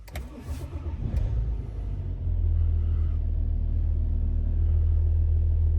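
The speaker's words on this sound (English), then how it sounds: "I will just start the car" A 2012 BMW X5 E70 30d diesel engine cranks briefly, then catches and settles into a steady, loud low idle rumble that continues to the end.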